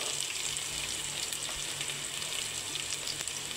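Onions, green chillies and carrot pieces frying in a pan after cumin seeds, giving a steady, moderately loud sizzle with no talking.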